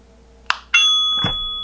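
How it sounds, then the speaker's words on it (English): A click followed by a clear electronic chime from a Eufy video doorbell that rings and slowly decays, with a soft thud near the end. "once you've heard the chime, then hit I've heard ringtone"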